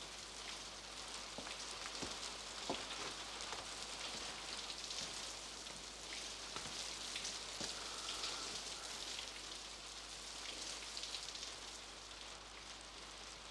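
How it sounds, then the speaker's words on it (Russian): Steady rain patters on a surface, a dense hiss with scattered sharper drips, continuous throughout without speech. "Дождь идет."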